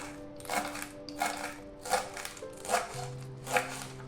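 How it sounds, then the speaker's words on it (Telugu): Spinach being finely chopped with a knife, about five sharp, even cuts against a board at a slow steady pace, faint and close, with no talk. "ముందుగా పాలకూరని సన్నగా తరిగి పెట్టుకోవాలి"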